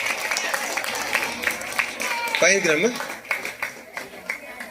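An audience of students and teachers claps through a school Teachers' Day celebration, a dense run of quick claps at moderate distance, mixed with crowd murmur and a brief spoken voice.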